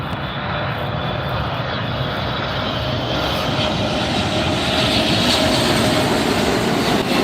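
Airliner jet engines roar steadily at LAX airport, a loud continuous rumble and whine from close by that swells slightly toward the end, with no talk.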